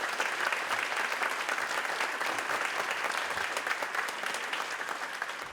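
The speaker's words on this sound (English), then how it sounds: "We need one more huge round of applause for every one of our" Steady, dense applause from a crowd at a school district awards night honoring its honorees, sustained and even throughout, heard somewhat distant and without talk.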